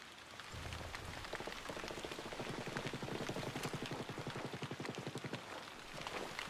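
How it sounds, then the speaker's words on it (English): Steady, heavy video game rain pattering densely on leaves and surfaces, a continuous close hiss with fine rapid droplet ticks throughout. "the rain sound effect is actually pretty awesome, especially when it increases and bounces off the leaves"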